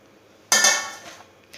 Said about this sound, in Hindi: और सारे मसाले को मैं मिक्स कर लेती हूँ, तो मिला लेते हैं।